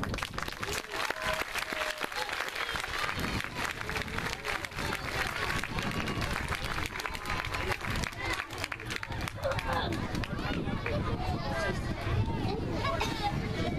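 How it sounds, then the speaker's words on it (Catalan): A school audience applauds loudly and steadily throughout, a dense wash of clapping mixed with crowd chatter and children's voices. "Un fort aplaudiment."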